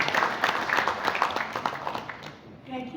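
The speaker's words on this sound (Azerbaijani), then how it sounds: "Gəlin bir daha bugünkü tədbirimizin sonunda alqışlayaq" Audience applause at the close of a book presentation event, many hands clapping together for over two seconds before a voice begins speaking as the clapping dies away.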